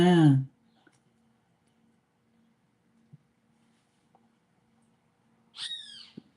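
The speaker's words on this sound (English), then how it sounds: "The birds are calling for you." An indoor pet bird gives a short, loud call at the start, then a second bright, chirpy burst near the end, with quiet room hum and a few small clicks between.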